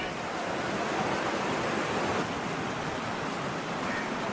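A stream flowing down from the foot of a hill pours steadily nearby, a dense, constant wash of noise with no pauses.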